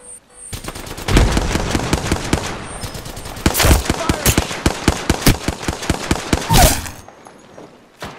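Rapid bursts of automatic gunfire and single shots crackle loudly through a video game firefight, in dense irregular volleys with brief pauses, while a player calls out over the action.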